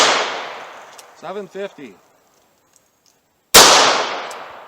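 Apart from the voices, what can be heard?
32 caliber MagTech hollow point rounds fired over chronograph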